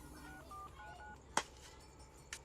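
A telephone keypad sounds a short series of quiet dialing tones, followed by a couple of sharp clicks from the handset in a faint, quiet room.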